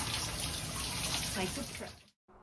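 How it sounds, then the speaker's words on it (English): Water gushes steadily through a hose held by hand onto an artesian well outlet that has no spigot, filling a tank with a close, hissing rush before cutting off abruptly near the end. "filling from an artesian well that doesn't have a spigot"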